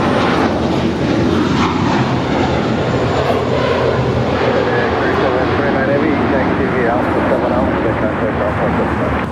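A FedEx Airbus A300 airliner roars at LAX, its engines a loud, broad, sustained rumble with shifting whine that fills the whole stretch without letting up.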